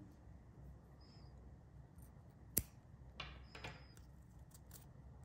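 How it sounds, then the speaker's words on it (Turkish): Scissors snip through paper yarn while a crossbody bag is being crocheted: a sharp single cut, then a couple of quieter snips in a hushed room. "bu şekilde bu ipi kesiyorum"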